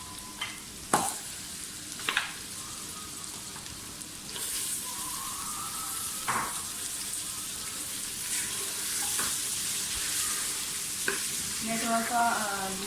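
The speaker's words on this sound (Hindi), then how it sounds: "मैं थोड़ा सा ये जो है ऑयल जो भी मैं यूज़ कर रही हूँ उसमें थोड़ा सा गोश्त को भूनूंगी" Mutton fries in oil in a pan with garlic, ginger and onion, giving a steady close sizzle with occasional stirring clatters and scrapes of a utensil.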